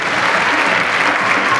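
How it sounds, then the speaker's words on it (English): A brief, dense burst of crowd applause at a cosplay contest, many hands clapping loudly and evenly throughout with no other sound standing out. "A big round of applause for our final cosplayer of today."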